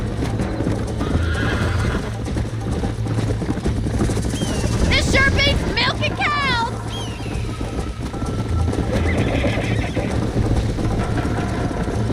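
Horses in the video game Red Dead Redemption gallop with steady, rapid hoofbeats under a constant rumble, and one horse gives a loud, shrill whinny midway. Someone speaks briefly over the hoofbeats.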